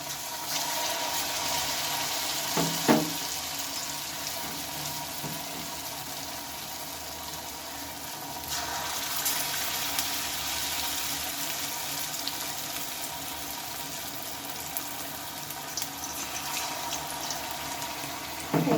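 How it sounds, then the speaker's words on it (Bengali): Pointed gourd slices coated in gram flour sizzle steadily in hot oil, a continuous hiss and crackle with a few louder pops; no talk over it. "এবার এইভাবে আমি পটলগুলো বেসনে মাখিয়ে পটলগুলো একে একে আমি ছেড়ে দেবো"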